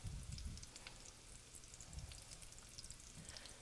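Meatballs for chicken piccata frying in a pan, a faint, steady sizzle with light crackling pops throughout, heard close and alone.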